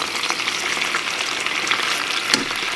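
Chicken breasts sautéing in a pan give a loud, dense, continuous sizzle up close, with a brief sharper burst near the end as a piece is turned over.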